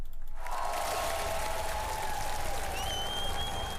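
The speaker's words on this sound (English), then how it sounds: "give our troops, men of the police force, NSCDC, everyone, a good round of applause" A round of applause for troops and police plays out as a steady, moderately quiet wash of clapping, with a thin tonal whine running over it.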